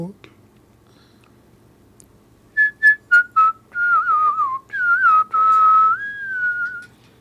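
A singer whistles a melodic tune, moving from short detached notes into longer sliding phrases with vibrato. The whistling is close and clear in a quiet room.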